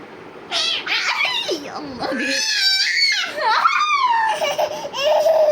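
A cat meows and yowls repeatedly in drawn-out rising and falling cries while a child laughs and giggles close by and people talk over the noise.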